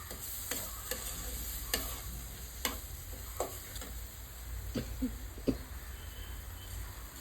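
Mustard paste is being sautéed with fish in a pan for a Bengali-style silver carp curry, with a soft sizzle under quiet, irregular scrapes and taps of a spoon stirring against the pan.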